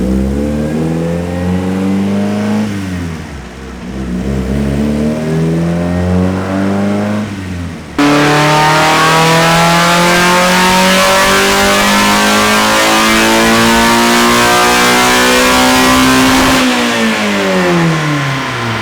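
An Exocet race car engine revs hard on a dyno, climbing in pitch, dipping briefly, then surging into a long, loud sustained high-rpm pull before easing off.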